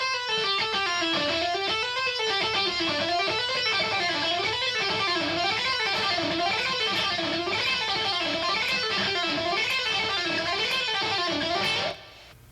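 Electric guitar hammer-on and pull-off phrases played together in a continuous legato run, rising and falling notes repeating in a steady wavelike pattern for about twelve seconds, close and clear, with no talking.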